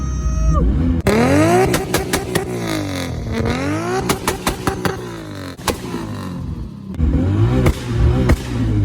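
A Nissan Skyline GT-R R34 fitted with a 2JZ engine revs hard, its loud close engine note rising and falling in sweeping throttle blips with sharp crackles and pops between revs.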